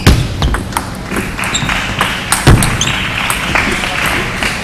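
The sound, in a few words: table tennis rally, ball hits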